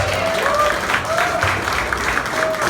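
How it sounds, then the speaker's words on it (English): A campaign kickoff crowd in a packed room applauds a Maryland senator, a steady wash of clapping over the full stretch with some cheering voices mixed in. "Another round of applause for Antonio Hayes."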